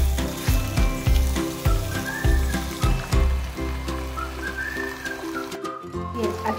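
Fish sizzling in hot oil in a frying pan alongside sautéed chopped vegetables, a close, steady crackle with rhythmic clinks and thumps over it.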